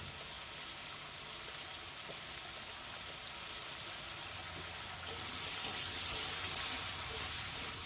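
Potato pieces with salt and turmeric fry in a pan with a quiet, steady sizzle. A few light clinks of a utensil come near the end.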